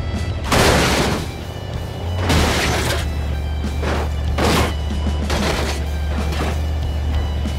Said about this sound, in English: And Max D coming in with a nice crash.